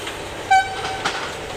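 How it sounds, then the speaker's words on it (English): Yarder whistle signal on a mountain logging site where a TMY 90 yarder skids logs: one short, loud, clear tonal toot, a second fainter blast following, over steady background noise. "they give a series of toots. They give a series of whistles."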